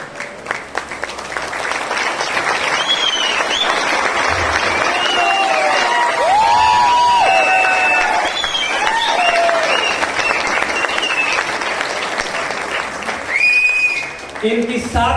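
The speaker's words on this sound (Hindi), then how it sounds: "तालियां चाहता हूं।" A motivational seminar crowd breaks into loud, sustained applause with cheering and whoops, clapping dense for over ten seconds before tapering near the end.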